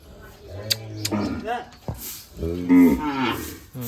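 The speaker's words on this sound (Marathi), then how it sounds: "आवाज द्यायला लागला वासराला" A village buffalo lows loudly to its calf, two or three long, close moos with people talking in between.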